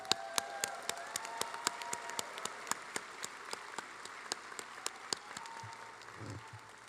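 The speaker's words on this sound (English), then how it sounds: "Let's give them one more round of applause." Scattered applause at a university commencement, heard as a soft, distant patter with sharp individual claps standing out at irregular intervals, fairly quiet under a faint hum and tone.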